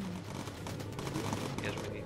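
Gunners aboard a bomber in the Bomber Crew video game fire at an enemy plane, a dense, continuous rattle of game gunfire with engine drone underneath, steady and loud throughout.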